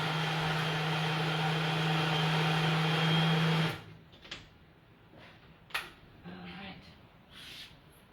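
A blender motor whirs loudly and steadily for a few seconds making a shake, then cuts off, leaving faint clicks and handling noises.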